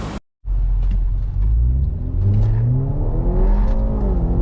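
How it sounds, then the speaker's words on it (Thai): A BMW 530e fitted with a Euro Arts valved exhaust and ECU tune pulls hard under acceleration after a brief silence, its loud engine rumble rising steadily in pitch through the gears, close and sustained. "ทดสอบอัตราเร่งให้ดูนะครับ ชุดท่อบวกจูนนะฮะยูโรอาร์ดเอ็กซอสอาร์ท่อซิ่งนะฮะ"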